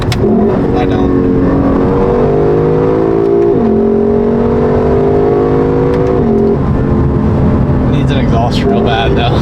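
A car engine revs hard while driven aggressively, holding a loud, steady drone that climbs and drops in pitch as gears shift, heard from inside the car with occasional voices.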